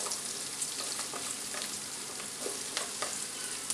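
Ginger, garlic and green chillies sautéing in a pan for mussel pickle, a soft continuous sizzle with faint spatula taps and light scraping, quiet and close.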